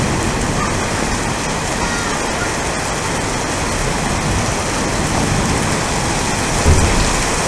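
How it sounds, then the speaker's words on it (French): Heavy rain pours down in a summer storm near Aurillac, a loud, dense, unbroken roar of drops drumming on surfaces with no voices over it. "c'est une petite averse, là c'est de la bonne pluie là"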